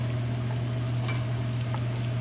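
Meat sizzles steadily in a hot pan, a continuous close frying hiss with a low steady hum beneath it and no voices.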